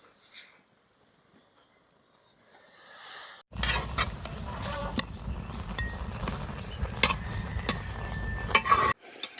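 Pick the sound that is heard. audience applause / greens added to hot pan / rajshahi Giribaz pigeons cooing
greens added to hot pan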